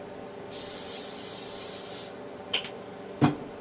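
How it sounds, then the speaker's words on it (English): A cleaning spray bottle gives one long pressurized hiss of about a second and a half, followed by a couple of quick rubbing or wiping sounds close by in a quiet kitchen. "We're going to spray that."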